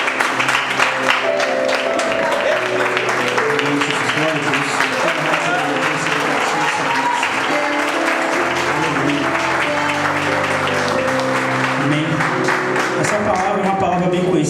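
Church congregation applauding during an evening evangelical service, steady clapping layered over music and voices throughout.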